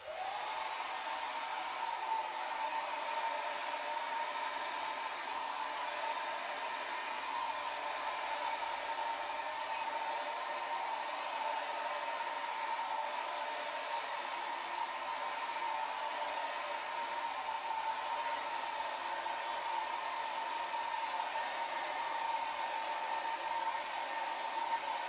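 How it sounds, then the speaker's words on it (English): A Babyliss 1200-watt travel hair dryer runs on its low setting, blowing warm air in a steady, even whoosh with a faint whine, close and constant for the whole stretch, with no voices. "So I have my travel hair dryer. It's Baby Bliss, 1200 watts."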